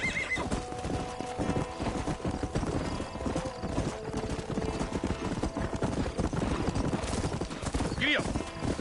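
Horse hooves clip-clop in steady rhythm in a video game, with occasional whinnies and someone speaking over the trotting.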